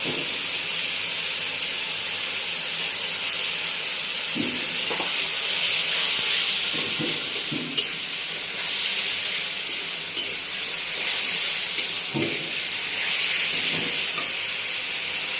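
Prawns hit a hot pan for a Bengali pui shak and prawn dish, setting off a loud, steady hiss of sizzling steam that swells and fades over several seconds, with occasional faint clatter.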